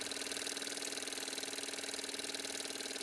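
An electric motor driven as a generator spins with a steady, even whirring drone, close and constant throughout, with no voices.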